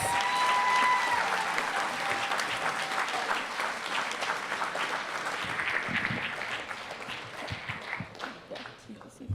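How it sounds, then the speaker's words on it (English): Sustained applause from a large crowd at an engineering graduation ceremony, a dense steady wash of clapping that thins slightly toward the end, with scattered voices mixed in. "Let's give a round of applause for our graduating engineers."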